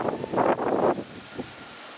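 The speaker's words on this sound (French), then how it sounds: "Ça y est, c'est la tempête." Gusty storm wind near Grenoble buffets the microphone in loud rumbling bursts that ease after about a second into a steady lighter rush.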